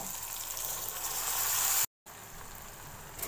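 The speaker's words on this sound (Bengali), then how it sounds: "পেঁয়াজ টমেটো ভাজা হয়ে গেছে এখানে আদা রসুনের পেস্ট দিয়ে দেব" Ginger-garlic paste hits onion and tomato frying in a pan for palak paneer, giving a loud, continuous sizzle that cuts out briefly and then carries on hissing.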